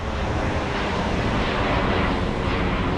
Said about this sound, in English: I'm not sure if that came from Shoreham or not, that plane, or that's RAF or what.